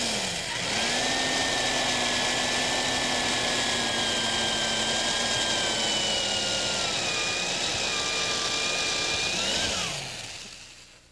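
A 5/16-inch brad point drill bit bores out a wooden dowel during furniture repair, a steady, loud motor whine holding for about nine seconds before winding down.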